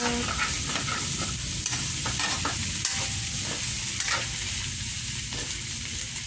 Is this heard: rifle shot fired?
no